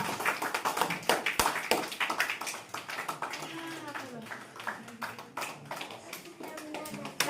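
Audience clapping in a church gathering, a burst of hand claps rising and thinning over several seconds with voices mixed in.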